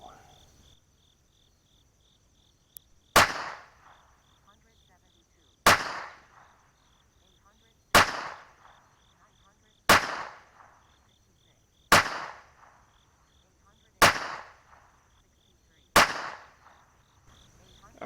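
A Taurus TX22 Competition SCR pistol fires seven rounds of Eley Bullseye Pistol X .22LR match ammunition, seven sharp, loud reports spaced about two seconds apart with crickets chirping faintly between them.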